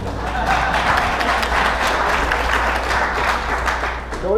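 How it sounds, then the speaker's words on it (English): An audience applauds steadily for several seconds, a dense, even clatter of many hands clapping. "You can clap."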